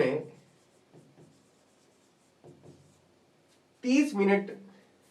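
Pen writing out a physics problem on paper or board during a motion-in-a-straight-line lesson, soft scratchy strokes in short bursts, with a voice speaking near the end.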